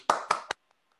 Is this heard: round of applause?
yes